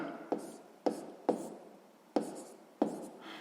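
A pen or pencil writes a maths formula by hand on paper, giving five sharp, close taps and strokes, each fading into a brief soft scratch, spaced unevenly over a few seconds.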